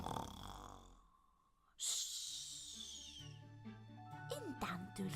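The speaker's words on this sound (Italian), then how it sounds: "E ormai si mise a russare come una motosega in funzione." A wolf's loud chainsaw-like snoring in a story sound effect, with rasping breaths and snorts that are faint at first, then a sharp, strong hissing intake and rattling exhales.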